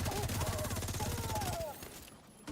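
Rapid bursts of gunfire rattle in a video game, dense and fairly close, with a voice heard over the shots before the shooting stops abruptly.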